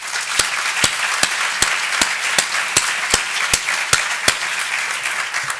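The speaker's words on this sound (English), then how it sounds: "I believe all of these people deserve a round of applause." Audience applause at an evening education forum, a continuous wash of clapping with sharp, regularly spaced claps from someone close by standing out above it.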